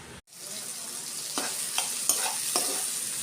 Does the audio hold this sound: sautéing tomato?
yes